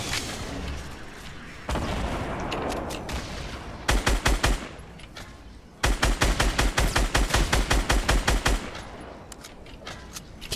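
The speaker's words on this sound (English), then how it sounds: "Keep shooting them." Rapid automatic gunfire from a video game crackles in bursts, then settles into a steady, fast rhythm of loud close shots after a quieter stretch, with no talking over it.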